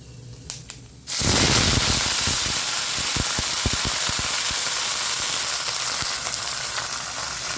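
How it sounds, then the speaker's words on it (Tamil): Mustard seeds, urad dal, dried chillies and ponnankanni greens hit hot oil for a Tamil keerai kootu, bursting into a loud, steady sizzle with dense crackling pops after a quiet first second. "அப்படியே வதக்கி விடுங்க எவ்வளோ போட்டாலும் அது சுருங்கி வந்துடும்"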